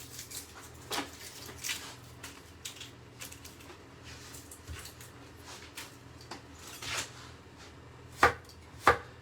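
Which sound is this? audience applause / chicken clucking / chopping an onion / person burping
chopping an onion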